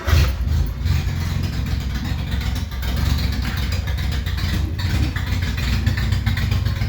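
A 1975 MG Midget engine idling, loud, close and steady with a low rumbling beat and a rough, hot-rod-like tone, with no talking over it.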